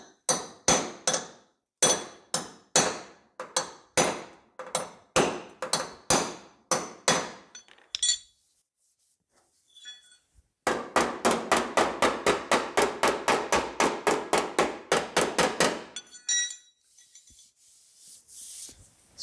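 Sharp metallic hammer blows ring out on a 1970 Camaro body panel backed by a body spoon, first as a slow, even series of strikes, then after a pause as a faster, tight run of taps, close and clear.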